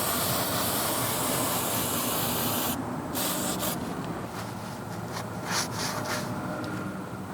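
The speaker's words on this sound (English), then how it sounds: "clean off all that brake fluid with solvent" Solvent sprays in a steady hiss onto a brake caliper of a 2002-2006 Toyota Camry to wash off spilled brake fluid, a continuous close spray that breaks into several shorter bursts toward the end.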